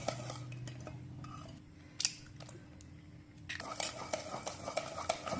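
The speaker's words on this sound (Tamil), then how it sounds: "இந்த மாதிரி விஸ்கு வச்சுக்கிட்டிங்கன்னா கிண்டுறதுக்கு நல்லா இருக்கும்" Egg batter whisked in a bowl for egg sweets, the metal whisk clicking and scraping in quick irregular strokes that grow busier toward the end, close and moderately loud.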